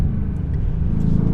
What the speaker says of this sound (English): So gone is the W12, and here is the twin turbo V8